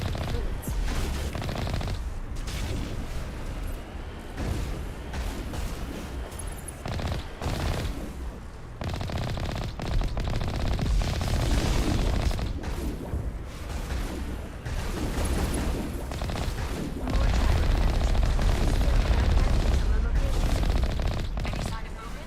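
Rapid gunfire from Geth weapons in the video game Mass Effect crackles almost without a break, with dense bursts and booms over a rumbling battle backdrop.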